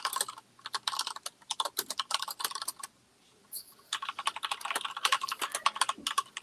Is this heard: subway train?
no